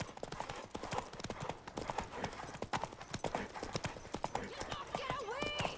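A horse gallops in The Witcher 3 video game, steady rapid hoofbeats close by with a brief whinny near the end, while voices talk over the ride.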